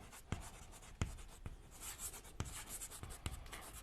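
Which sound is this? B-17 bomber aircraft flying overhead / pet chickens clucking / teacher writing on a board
teacher writing on a board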